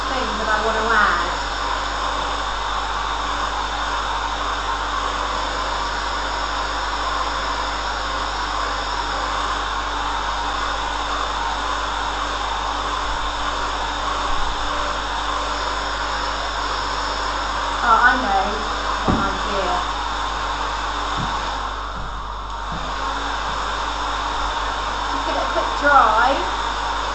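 A hair dryer blows steadily to dry acrylic paint during an abstract painting workshop, a loud continuous whir that runs throughout with only slight dips and a few faint handling sounds.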